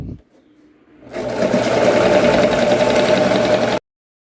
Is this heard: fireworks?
no